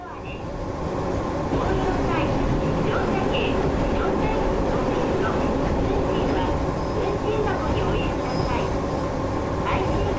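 A train in a Japanese rail simulator game climbs uphill out of the city centre toward Kyoto, its steady rumble and rolling rail noise continuous and loud, with faint clicks and tones scattered over it.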